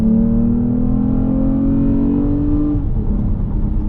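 A tuned Toyota Camry accelerates hard, its engine note rising steadily and loudly for nearly three seconds before dropping off at a shift, then continuing at a lower pitch.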